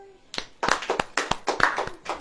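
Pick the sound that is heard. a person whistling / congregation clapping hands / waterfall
congregation clapping hands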